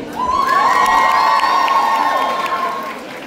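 Audience at a cosplay contest on stage at a fantasy and Japan convention cheering loudly, a dense roar of shouts and high whoops with some children's voices, sustained for a few seconds before easing slightly.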